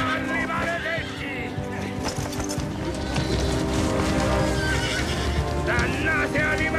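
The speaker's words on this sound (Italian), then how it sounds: "Presto, in sella! Cavalli maledetti!" Several horses neighing and whinnying loudly while hooves clatter in a gallop, repeated calls rising over the beat of running, with shouting voices mixed in.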